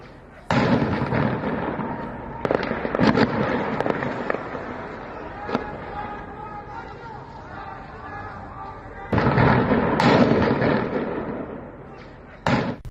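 Gunfire during street protests in Sarable, Ilam province, Iran, with AK-47 rifles: loud cracking bursts and sharp single reports ring out repeatedly across a noisy outdoor scene, mixed with a voice talking over them.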